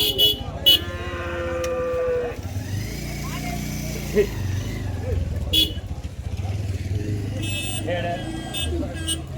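Cattle low and moo at a busy cattle market in Vaniyambadi, calling repeatedly among vehicle engines and horn toots, while people talk nearby throughout.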